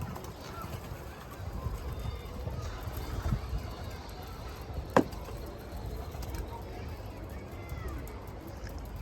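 Mardin pigeons, including a runaway kula bird, coo softly outdoors, low and faint under steady rustling background noise, with one sharp click midway.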